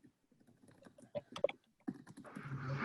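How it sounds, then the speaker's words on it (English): Typing on a computer keyboard during an online alumni panel, with quick irregular clicks and taps, close and fairly quiet, growing denser with a slight hiss toward the end and no talk. "Now you're just going to hear a bunch of typing."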